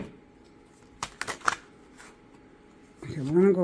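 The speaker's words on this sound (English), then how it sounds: "Why is my hand trouble shuffling?" Tarot cards being shuffled up close in a few quick riffling bursts, followed by a voice talking.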